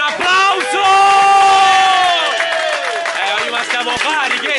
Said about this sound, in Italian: Dai un applauso!